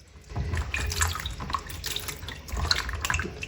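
Peeled round gourds (tinda) are rinsed in water, with continuous splashing and trickling under a running tap, near and moderately loud, with a few brief clinks.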